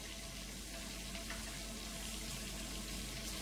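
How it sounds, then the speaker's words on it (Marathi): Water poured into flour for a loose dough for poli, a steady close rush of liquid with a broad hissing wash and no talk. "आता यामध्ये ना आपण पाणी घालायचंय"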